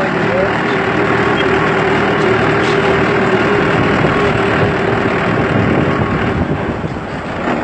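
Tractor engine running slowly on hand throttle, a steady loud low rumble heard close, with wind buffeting the microphone throughout.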